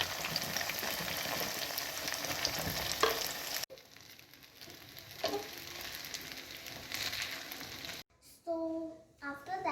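Sabudana mixture sizzles and is stirred in a pan while cooking sabudana khichdi, a quiet, soft crackle in short spliced stretches with faint voices nearby.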